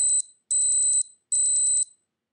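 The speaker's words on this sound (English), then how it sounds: "press find my tag to sound an alarm on the tag" Three bursts of rapid high-pitched electronic beeping from a Bluetooth tag alarm, each lasting about half a second, separated by short pauses; a shrill, close chirp with no talking.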